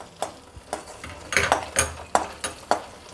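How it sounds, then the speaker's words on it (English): Coconut pieces fry in ghee in a kadai, with a soft sizzle beneath a series of about eight sharp metallic scrapes and stirs of a spoon against the pan, spaced roughly half a second apart and close by. "into my kadai, and I will put this coconut pieces. Let it fry till it becomes brown."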